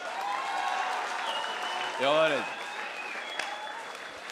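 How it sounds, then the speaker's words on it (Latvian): Crowd applause and cheering at a KSPROFL 6 fight event, a steady broad wash of clapping running under loud close talk throughout. "Aplausi!"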